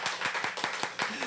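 Church congregation at a Sunday worship service clapping to welcome members, a steady run of about eight brisk hand claps, fairly close, with a voice briefly underneath.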